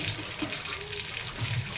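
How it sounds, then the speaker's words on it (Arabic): Water runs steadily from a tap into a pot of yellow lentils, a continuous rushing splash close by, with a faint voice underneath. "نزود شويه ميه"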